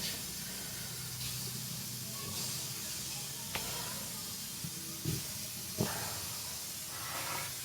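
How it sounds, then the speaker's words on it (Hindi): A steady, loud hiss of escaping steam runs throughout as a pressure cooker whistles while cooking rice with turnips and meat, with a few clinks and knocks nearby. "हमारी विसल भी जो है चल पड़ी कुकर की"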